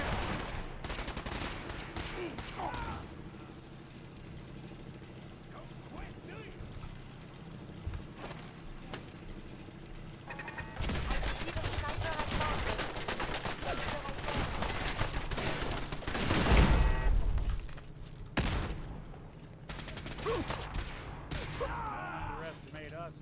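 Gunfire in a modded Fallout 4 game: scattered shots at first, then dense rapid bursts of automatic and rifle fire with a heavy blast midway, loud and close, with occasional voices among the shooting.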